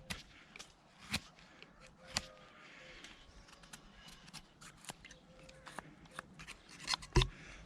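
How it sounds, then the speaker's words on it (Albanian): Scissors snip repeatedly in sharp, uneven clicks, close by, with light rustling and handling noises between the cuts. "e heqim pak me gërshër për më shpejt"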